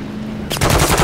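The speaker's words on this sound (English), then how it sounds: "There's enemy fire!" Rapid automatic enemy gunfire from the Call of Duty Modern Warfare 3 video game erupts loudly over a steady rumbling game background, dense bursts firing continuously through the second half.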